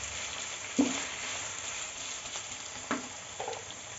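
Minced meat (qeema) drops into fried onions in a pan, giving a steady soft sizzle with a few spatula scrapes and taps over it.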